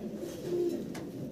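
Racer pigeons coo softly in a pen, a single low rolling coo rising and fading over a quiet background.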